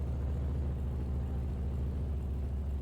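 A truck engine in Farming Simulator gives a deep, steady rumble at a low idle, constant and unchanging throughout.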